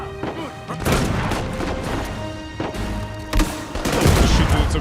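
Gunfire and heavy blasts from a grenade launcher in Uncharted 4, a dense run of loud shots and crashing impacts with explosive bursts near the end.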